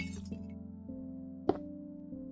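Glass blocks placed in Minecraft Bedrock, a few light glassy clinks at irregular intervals with one sharper, brighter tap, heard over a steady low tonal hum.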